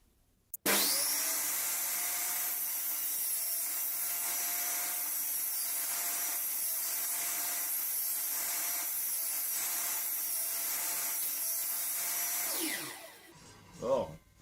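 A saw blade cuts a circle from wood on a circle-cutting jig, a loud, steady whine with rhythmic pulses as the piece is turned. The blade runs near and alone for about twelve seconds, then spins down.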